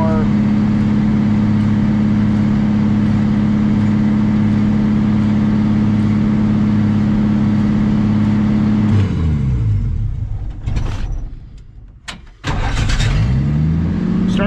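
A rusty 1979 Ford F150 pickup engine idles high and steady with a droning hum, then its pitch sweeps down and the motor stumbles, cuts out briefly and revs back up, heard close with someone talking.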